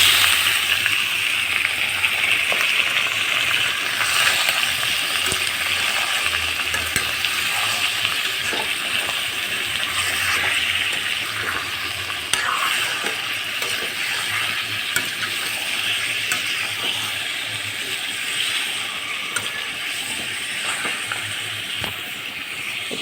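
Broiler chicken fries with browned onions in a pan, producing a long, even sizzle with occasional clicks and scrapes of stirring, close and steady, with no voices.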